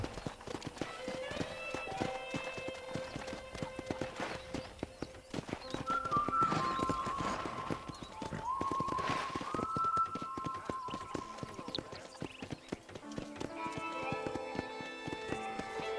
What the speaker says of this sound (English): Vamos andar de novo de cavalo.